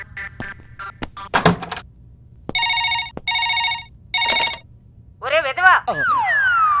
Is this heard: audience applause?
no